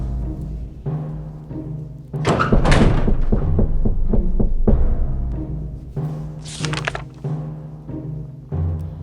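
Knocks and thuds at a door in the survival game 60 Seconds, several loud close bursts of banging spread across the stretch, mixed with game sounds.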